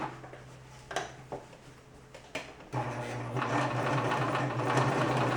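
A sewing machine stitches a costume sleeve in the round, first a few scattered clicks and knocks, then a steady close whirring run of stitching that continues to the end.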